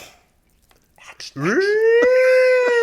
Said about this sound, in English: You got the drug dog?